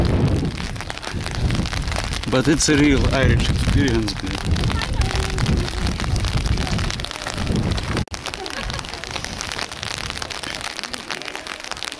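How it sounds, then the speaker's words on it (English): Steady rain falls outdoors in Dublin, a dense constant hiss filling the whole stretch, with a person talking over it near the start. "It's raining,"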